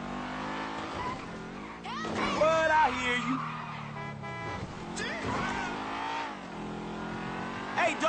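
Cars driving and revving in the video game GTA V, engines surging and dropping with brief tire squeals, over a dense mix of game sounds while people talk throughout.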